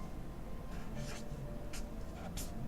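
A pen moves across paper while Korean calligraphy for a New Year greeting is written, producing a few soft, scratchy strokes over a quiet room background with faint low hum.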